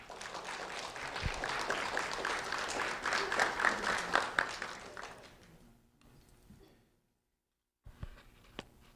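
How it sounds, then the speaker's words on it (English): An audience applauding at a community recognition ceremony, a dense wash of clapping that swells for several seconds, then fades to near silence before a few stray knocks. "a round of applause for Eric Hector"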